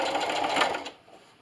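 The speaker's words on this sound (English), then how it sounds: "just keep sewing all the way around till you get to your end pin" A sewing machine runs a straight stitch with a half-inch seam on cornhole bags, a steady close whir for most of the moment before it stops and falls quiet.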